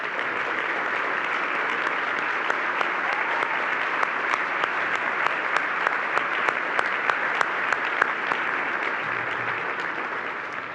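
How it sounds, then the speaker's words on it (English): A big room of dinner guests at a county chamber event applauds military guests, steady dense clapping holding loud and even for about ten seconds with a few sharper claps standing out. "let's give them a big round of applause for them being here tonight."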